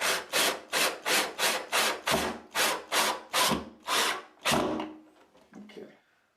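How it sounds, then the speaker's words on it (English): A power driver whirs in about ten short, even bursts as a screw goes into a molly wall anchor to hang a Glacier Bay cabinet, then slows and stops. "now that I put the mollies in, I'm just going to drive the screw in"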